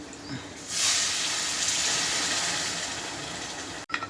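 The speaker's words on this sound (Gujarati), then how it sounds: "એક ગ્લાસ નાખી દીધું છે પાણી" A glass of water is poured into a pan of stuffed eggplant curry cooking in oil, giving a sudden loud steamy hiss that holds steadily for about three seconds before cutting off.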